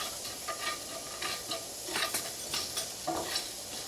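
Fennel and cumin seeds being roasted in a pan for kadala curry, with a soft, continuous sizzle and occasional light stirring scrapes, close but quiet.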